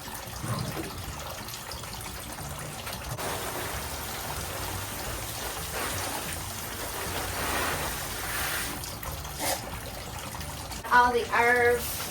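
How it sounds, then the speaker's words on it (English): Water trickling from a watering can onto potted herbs and vegetable plants in a greenhouse, a steady soft splashing pour lasting most of the stretch, with a brief burst of voice near the end. "give them a little bit of water"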